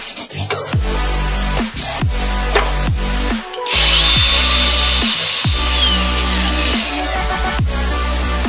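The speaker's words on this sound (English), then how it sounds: "I'm going to drill this first and get started with just that" A power drill whirs in a series of short bursts, each winding down, before a longer sustained run of drilling a hole for a GMT900 Yukon third brake light; close and loud.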